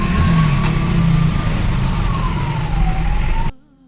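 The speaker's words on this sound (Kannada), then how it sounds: "ಇಲ್ಲಿ ಆಂಬುಲೆನ್ಸ್ ಐತೆ, ಈ ಟ್ರಾಫಿಕ್ಕಾಗೆ ಎಲ್ಲಿ ಹೋಗ್ತೈತೆ ಗಾಡಿ" An ambulance siren wails through heavy city traffic in Bangalore, heard from a nearby vehicle over constant engine rumble, its tone sliding up and down before the sound cuts off abruptly.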